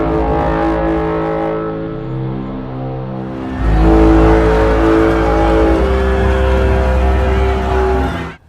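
Deep bass rumble of an alien machine from Spielberg's War of the Worlds, a sustained loud drone that swells sharply partway through and holds heavy low-end power until cutting off at the end.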